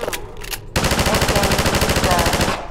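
Rapid automatic gunfire in the Half-Life 2 video game sounds as a dense, continuous burst of shots lasting a couple of seconds, preceded by two short separate bursts, loud and close.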